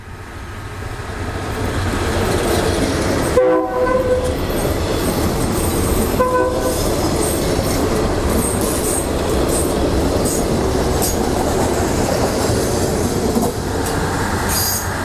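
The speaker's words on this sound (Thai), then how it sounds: "ก็จะมีขบวนรถธรรมดาที่ 281 กรุงเทพกบินบุรีเข้ามาจอด" A Kiha 183 diesel passenger train rolls into a station loudly and steadily, wheels grinding and squealing, with two short horn blasts early on and a continuous engine drone throughout.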